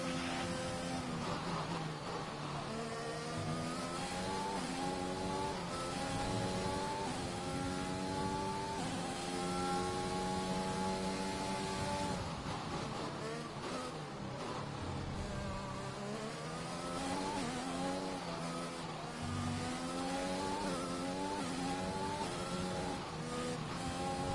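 Several Formula 1 race car engines from the F1 2021 racing game drone and whine continuously, pitch climbing and falling through gear changes as cars run close together, loud and steady with no talk.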